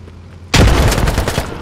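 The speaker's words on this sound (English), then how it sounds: "Nade going in." In the Squad military shooter game, a grenade detonates with a sudden loud, close blast, followed by a dense rumbling crackle of gunfire and debris that carries on for over a second.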